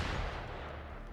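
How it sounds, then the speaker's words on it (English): Loud burst of video game gunfire, dense booming shots blending into a continuous rumbling barrage throughout, with no talking. "Gunfire!"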